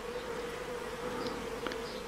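Honeybees hum steadily at an apiary hive on a very hot day, a dense continuous drone close by with individual bees flying past; no voices.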